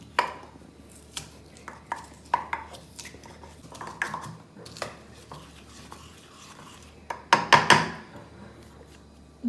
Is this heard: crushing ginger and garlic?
yes